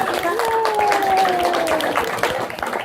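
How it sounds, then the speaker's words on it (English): An audience in a library claps for the hosts, a steady patter of many hands throughout, with a voice calling out over the applause. "I think the library should be given a round of applause for hosting this group today"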